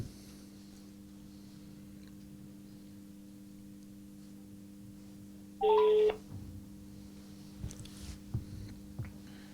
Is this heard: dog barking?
no